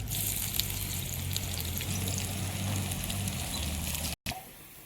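Onion sizzling in hot oil in a pan along with curry leaves and slit green chillies, a steady close frying crackle that runs throughout, briefly cut out near the end before resuming.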